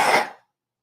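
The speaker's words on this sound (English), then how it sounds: "Uh-oh, I think I have to sneeze." A single sudden sneeze bursts out loud and close, a short explosive blast that fades within half a second, followed by silence.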